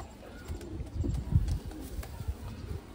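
Makua pigeons of Punjabi Malwai flying stock coo in low, soft, irregular murmurs, close but quiet, with faint background noise.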